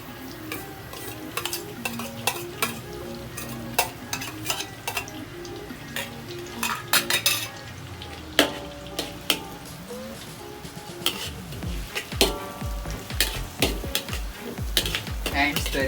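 Onions and garlic sizzling in butter in a pan while being stirred, with frequent clinks and scrapes of a utensil against the pan over a steady frying hiss, no talking.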